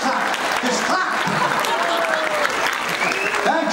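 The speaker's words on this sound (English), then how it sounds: "Full claps! Give me the clap!" A burst of full, steady audience clapping at a Supernatural Chicago 22 convention panel with an actor, close and continuous throughout, with faint voices mixed into the crowd noise.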